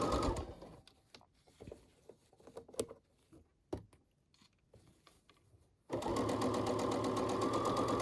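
A sewing machine stitches a fabric face mask: scattered short bursts and taps of the needle, then a loud, steady run of rapid stitching near the end, close by.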